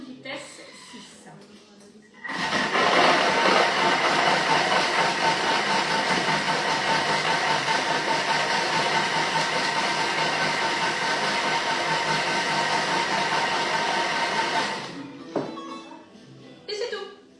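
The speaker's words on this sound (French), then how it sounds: "on va mixer 12 secondes, vitesse 6" A food processor blends orange juice at speed 6, giving a steady, loud whirring drone that runs for about twelve seconds, then cuts off abruptly into near quiet.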